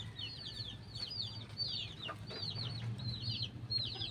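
Chickens clucking and squawking close by, a busy flurry of calls over a steady low hum, with occasional wing rustles.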